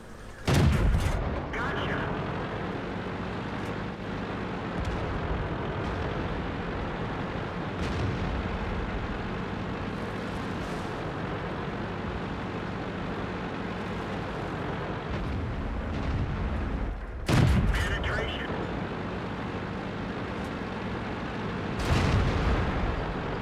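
A tank battle in World of Tanks on the Murovanka map, with heavy cannon shots and explosions. Booming blasts land near the start, around seventeen seconds and again near the end, over a continuous engine rumble.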